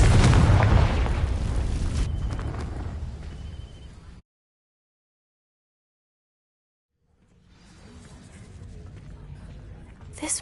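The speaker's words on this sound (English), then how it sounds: "These dry vines are one spark away from becoming kindling. Confringo!" A Confringo fire spell in Hogwarts Legacy ignites dry vines with a loud, low roaring burst that fades out into about three seconds of complete silence, then a softer crackling rumble builds again.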